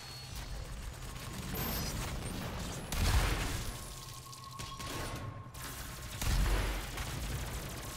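Two heavy booming blasts, evenly spaced, thud through a busy multiplayer team deathmatch in DOOM, rocket launcher explosions landing amid mechanical weapon noise and a steady game din.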